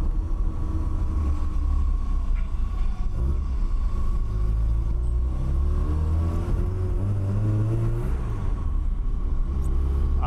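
A car engine rumbles steadily up close with a low drone on Ginza's main street in Tokyo, occasional revs rising and falling over continuous city traffic noise.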